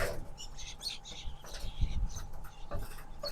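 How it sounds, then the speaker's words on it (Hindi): Small birds chirp and tweet in scattered bursts from a house rooftop during light rain, with someone talking quietly over them. "ओ वाह, कितनी सी चिड़िया देखो जरा,"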